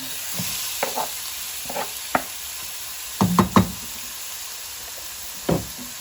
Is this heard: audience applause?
no